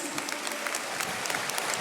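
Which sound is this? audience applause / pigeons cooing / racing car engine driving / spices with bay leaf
audience applause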